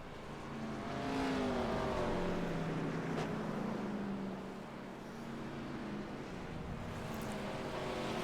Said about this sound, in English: Even under pace, that engine sounds so good.